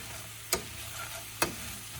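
Bacon frying in a pan for candied bacon with pecans: a quiet, steady sizzle broken by two sharp clicks, likely from the pan or utensil, with nobody talking.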